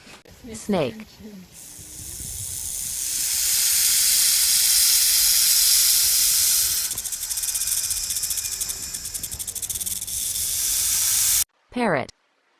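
A snake gives a long, loud, breathy hiss that swells and holds steady for several seconds. Short squeaky calls are heard just before the hiss and again after it stops.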